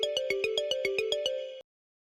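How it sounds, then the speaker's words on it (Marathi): A phone ringtone for an incoming call plays as a rapid electronic melody of about nine evenly spaced beeping notes, clear and close, then cuts off abruptly into silence. "त्याचाच फोन येतोय"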